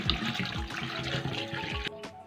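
Water pours steadily into a cooking pot of beef paya with ginger-garlic paste, a continuous splashing rush lasting about two seconds before cutting off abruptly, close and fairly loud with no talking.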